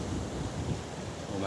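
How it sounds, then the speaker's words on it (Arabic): Heavy, high surf churns along the Alexandria seafront near Cleopatra, a steady roar of rough water mixed with strong wind buffeting the microphone and no clear individual crashes. "البحر عالي جدا النهاردة يا جماعة، الموج رهيب"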